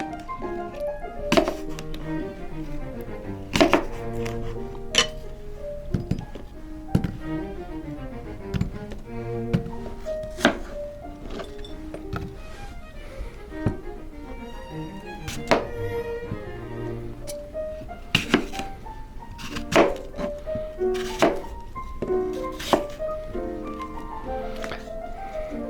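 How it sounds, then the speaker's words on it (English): A knife slices through Washington State apples on a board, giving irregular sharp thunks and taps scattered throughout, close and clear, over a steady background of music. "let's go ahead and let's slice them up"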